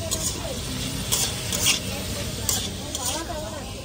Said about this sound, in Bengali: এখানে এই যে সবজি ডালের জন্য ভাজাভুজি হচ্ছে